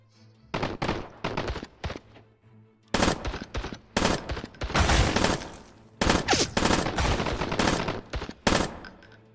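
Gunfire in the video game Wars & Roses: loud, close bursts of rapid shots in repeated volleys separated by brief pauses, with no talking.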